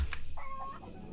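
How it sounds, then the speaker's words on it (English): A chicken in a video game gives one short cluck or squawk, fairly close and clear, against a soft game background. No one speaks over it. "Chicken."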